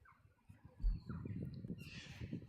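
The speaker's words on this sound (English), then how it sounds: "I hear birds" Faint outdoor birds call in the distance, with a few crow-like caws and squawks standing out over a low murmuring background.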